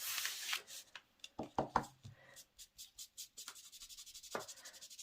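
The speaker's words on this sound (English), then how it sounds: "So just rub that right onto one side and then flip over and rub to the other until you have a nice cloud color" A sponge dauber rubs ink onto white cardstock in a run of short, quiet scrubbing strokes, close up and rhythmic, with no voices.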